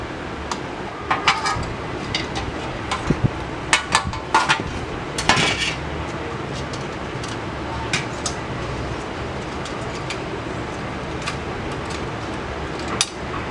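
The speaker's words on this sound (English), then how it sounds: "I'm going to remove these little knobs first." Small metal knobs being unscrewed and pulled off a spray-painted vanity light fixture, giving scattered light clinks and taps over a steady room hum.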